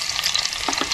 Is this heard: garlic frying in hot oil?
yes